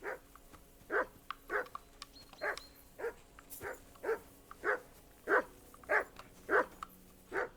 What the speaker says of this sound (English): Δεν μ' άρεσε να γαβγίζει ο σκύλος.